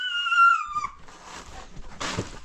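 A dog whimpers in high, thin whines that slide down, followed by softer yips and rustling, fairly close and moderately quiet.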